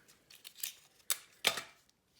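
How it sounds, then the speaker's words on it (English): Ribbon scissors snip through craft ribbon in a few quick, close, crisp cuts, heard alone in a quiet room. "Get my ribbon scissors, cut it here."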